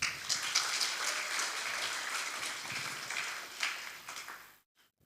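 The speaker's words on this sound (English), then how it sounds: "Please give applause" International academic conference audience applauding the organizing committee, steady moderate clapping with a few sharper claps, fading out into silence at the end.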